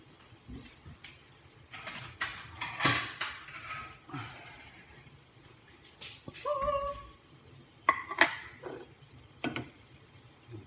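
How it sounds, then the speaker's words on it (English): Dishes and a plate clatter in a home kitchen while pancakes cook, with scattered light clinks and knocks at moderate volume and no talking. "I'm going to grab a plate."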